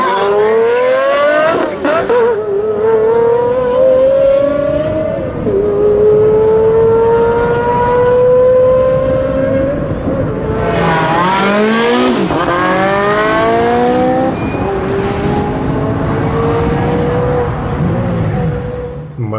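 A Bugatti and an Enzo Ferrari sports car race hard, their engines roaring loud and continuous with rising revs and gear changes throughout, plus a sharp burst of acceleration midway.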